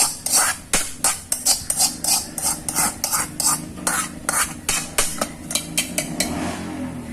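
Unniyappam batter of rava, maida and jaggery is stirred briskly in a bowl, producing a fast, regular series of wet scraping and slapping strokes, close and loud throughout.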